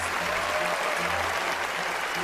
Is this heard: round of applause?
yes